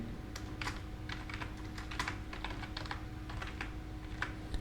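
Fast, irregular keystrokes clatter on a computer keyboard in quick bursts, close and clear against a faint steady hum, with no voices.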